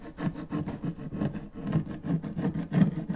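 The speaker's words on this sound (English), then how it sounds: "Now, what I want to do is I want to scrape some of this back." Paint being scraped back on a cabinet with a small transfer tool, heard as repeated rough rubbing strokes in a quick, even rhythm, close and moderately loud with no talk.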